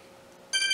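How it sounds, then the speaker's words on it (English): A telephone rings once, starting partway through after near silence, loud and close with a bright trilling electronic tone and no voices. "That was a phone call."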